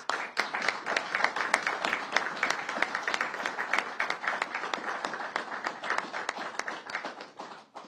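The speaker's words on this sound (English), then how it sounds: "Let's give her a round of applause." A crowd applauds steadily for several seconds, dense overlapping claps that fade slightly toward the end, moderately loud in an indoor space.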